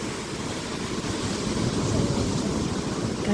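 Waves wash in at Dhariz beach in Salalah, a continuous broad roar of surf mixed with wind rumble, fairly close and steady with no voices.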